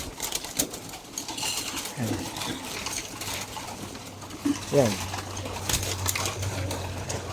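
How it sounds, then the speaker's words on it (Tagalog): Stock pigeons cooing restlessly before feeding, soft repeated coos close by with scattered rustling and a faint voice. "Mga stock birds natin, no? Magwawala na silang lahat. Gusto na nilang kumain."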